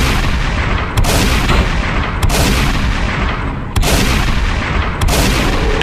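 Shotgun blasts in the zombie video game Vanish Rain, four loud, sharp booms spaced roughly a second or more apart over a constant noisy background, heard close and with no talk.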